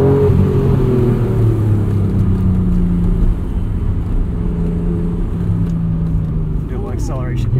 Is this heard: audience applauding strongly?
no